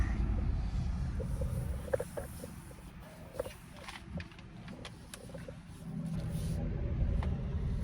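Peugeot 5008 GT Hybrid pulling away in reverse, a low muffled cabin rumble with scattered clicks, rising again near the end.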